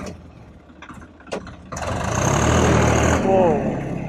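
An XT tractor engine rises from a low idle into a loud, sustained revving roar partway through a torque test, then eases back slightly at the end, with a few faint knocks before the engine surges.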